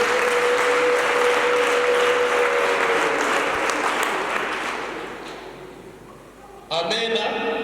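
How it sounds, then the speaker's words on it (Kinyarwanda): Applause at a wedding ceremony, a sustained crowd clapping that fades out toward the end before a sharp new burst of sound, with voices heard alongside. "Mukomere Imana amashyi."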